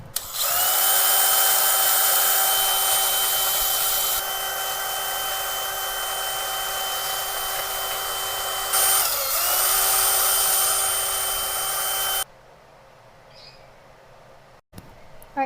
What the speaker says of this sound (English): So I'm going to hit this with the wire brush.